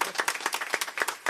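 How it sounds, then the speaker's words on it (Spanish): A live music show audience claps together, a brief burst of quick, irregular handclaps at moderate volume filling the space. "¡Démele un aplauso a mi tía Chole!"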